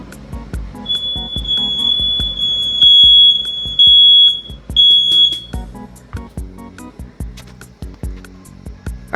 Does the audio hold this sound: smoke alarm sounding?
yes